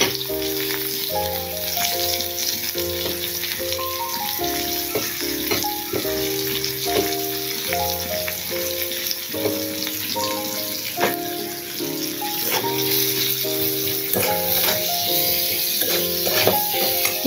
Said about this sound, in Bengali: গরম তেলে দিয়ে দেবো একটা তেজপাতা, তারপর দিয়ে দেবো পেঁয়াজ।